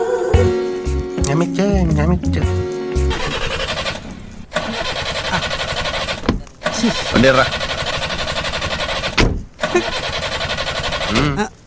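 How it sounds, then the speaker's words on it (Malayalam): A car engine cranks with a fast, stuttering starter whine, then catches and runs with an uneven mid-pitched rumble broken by short drops and revs; voices talk over it. "എഞ്ചിൻ നടക്കുന്നുണ്ടോ എന്ന് ചെവിയോർത്ത് നോക്കിയാലേ അറിയാൻ പറ്റത്തുള്ളൂ."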